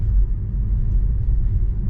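Inside a 2024 Buick Envista Sport Touring while driving, a steady low rumble and soft whir fill the cabin, constant and fairly loud, with no voices.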